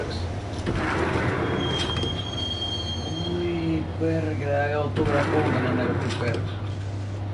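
Subway train in the Max Payne video game, rumbling steadily with squealing wheels and sliding-door sounds, under a steady low hum and tonal effects.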